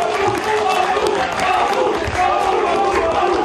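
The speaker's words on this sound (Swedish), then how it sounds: "Och Hammarby-publiken skanderar hans namn" Hammarby football supporters in a stadium chant a player's name, a loud, dense, rhythmic roar of many voices filling the whole stretch, with a commentator talking over it.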